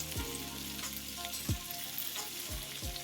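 Food frying in garlic butter in a hot pan after steak was cooked, a steady close sizzle with a few stirring scrapes and no talk.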